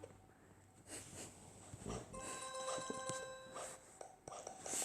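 A pig oinks in the Adventure Simulator video game, snorting grunts over soft background noise with a steady tone underneath, moderately close and fairly quiet.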